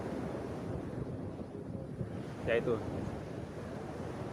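Surf rolls steadily onto Nipah Beach, a continuous wash of waves with wind buffeting the microphone, and a person briefly speaks near the middle.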